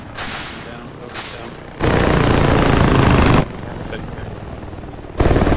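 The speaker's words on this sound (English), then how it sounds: "That's an attack chopper they've got." An attack helicopter in a combat video game whirs with a broad, rushing rotor roar that swells in loud stretches between quieter gaps, mixed with sharp bursts of gunfire.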